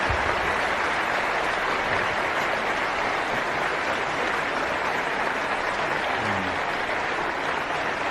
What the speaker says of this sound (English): give them a rousing hand of applause for a job well done